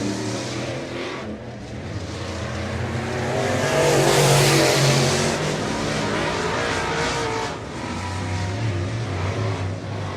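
Late model race cars at Cotton Bowl Speedway in a South Texas Late Model Series heat race roar past in a loud, continuous engine drone that swells to a peak midway and stays steady, with no talk.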